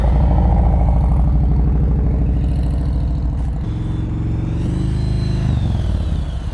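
A motorcycle crawls at very low speed through a cone course on an advanced slow-speed practice session in North Carolina, its engine running steadily and loudly close by with a slight clutch-modulated change in tone partway through.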